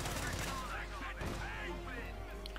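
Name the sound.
gunfire in the video game Company of Heroes 2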